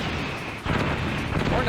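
A missile explosion in the Metal Gear Solid video game, a heavy boom that erupts partway in and rumbles on. Someone talks over it.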